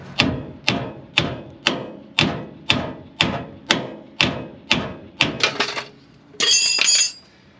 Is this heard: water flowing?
no